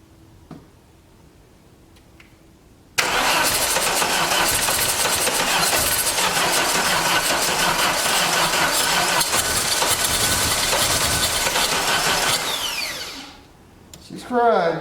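A 1989 Dodge Daytona engine cranks steadily on a weakening battery for about ten seconds, a loud, continuous starter grind that slows and fades at the end. It has transmission fluid in the cylinders and rings freed from sticking.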